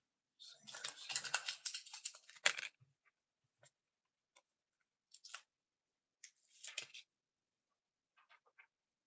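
Scissors cutting paper pieces for a skate-themed workshop, a loud run of continuous snipping and rustling followed by scattered, sparse single cuts and soft taps, close and quiet, with no talk.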